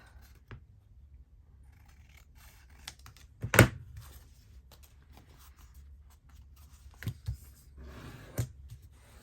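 Scissors trim paper for handmade Easter tags: one sharp, close snip midway, with a few soft clicks and paper rustles in an otherwise quiet room.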